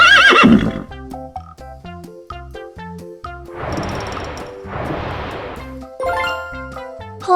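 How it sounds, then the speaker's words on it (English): A horse neighs in a shrill whinny at the start, followed by a light musical jingle with two bursts of noisy snorting or hoof sounds, set against a simple melody. "Horse."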